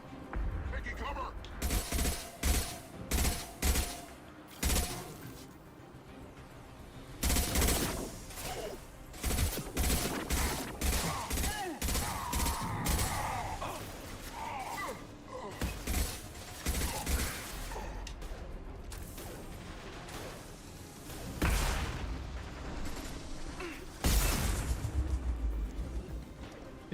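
Video game combat with repeated gunfire and concussive blasts. Sharp shots and bursts come in irregular clusters throughout, mixed with mechanical clatter and occasional talk from a player.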